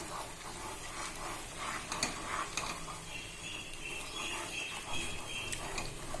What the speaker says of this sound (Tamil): மாவை ஒரு கையால் கொட்டிக்கிட்டே ஒரு கையால் கலந்து விட்டுட்டே இருக்கலாங்க.